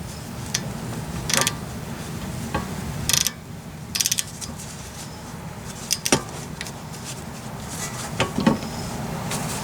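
A hand ratchet works on 14mm rear bracket bolts of a 2013 Mazda6 during a wheel bearing and hub job. Short bursts of close metallic clicking come at irregular intervals over a low steady background hum.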